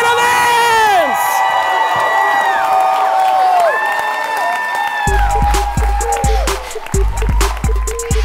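A live audience at a professional dance competition cheers the finalists with loud whoops, shouts and high whistles, the crowd noise carrying on steadily for several seconds.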